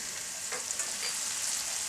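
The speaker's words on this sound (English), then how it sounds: "here I have a frying pan into which I'm going to add my butter" Butter melts in a frying pan over high heat, giving a short, steady bright sizzle that runs on its own for about two seconds.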